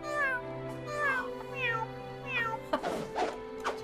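A cat meows repeatedly in Barbie & The Three Musketeers, several clear, close, rising-and-falling meows in a row, ending in a rougher, noisier cry over a steady background tone.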